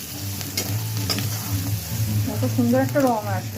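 Turmeric and Kashmiri red chilli powder fry in a pan, giving a soft, steady sizzle with scraping stirs from a spoon. Someone talks over the cooking close by.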